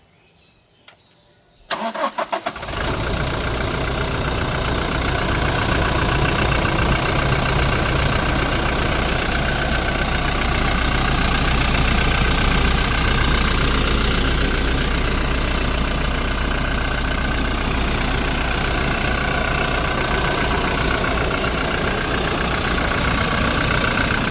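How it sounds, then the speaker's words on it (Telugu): A Toyota Innova Crysta engine cranks and fires after a moment of near silence, then settles into a loud, steady idle that runs on evenly without talk. "ఇంజిన్ అయితే స్టార్ట్ చేసి చూపిస్తానండి సౌండ్ ఎలా ఉంది ఏంటనేది ఒకసారి మీరు చూడొచ్చు"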